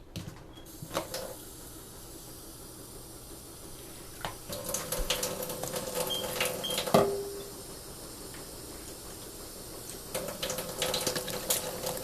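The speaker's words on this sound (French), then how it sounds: "On va ajouter un peu d'eau." Water poured from a tap into cassava purée while making kwanga, a steady running splash rising and falling over about twelve seconds, close and moderately loud, with no talking.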